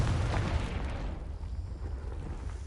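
A muffled fiery blast from the Confringo spell in Hogwarts Legacy, a dull boom at the start that decays into a low rumbling tail.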